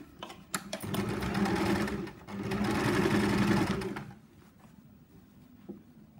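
A sewing machine topstitching fabric with the lining turned inside, running in two close, loud bursts of steady whirring with brief pauses and light clicks between them.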